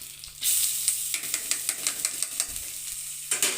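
Curry leaves and turmeric sauté in a pan, giving a close, steady sizzle punctuated by a quick run of light, rhythmic scraping stirs from a spoon, with no voices.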